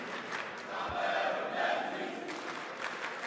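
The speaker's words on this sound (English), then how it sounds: "Now they're chanting Cameron Menzies' name." A darts crowd at the Poland Darts Open chants a player's name, a loud swelling group chant echoing in the arena hall, rising and falling over a few seconds.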